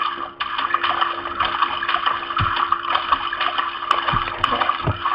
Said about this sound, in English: Every time I hear the splashing when I jump in the water